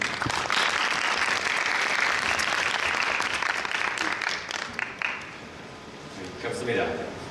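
Audience in a lecture hall applauds to welcome Professor Patrick Baudisch of the University of Potsdam, a dense, steady clapping that holds for about five seconds, then thins and briefly swells again near the end.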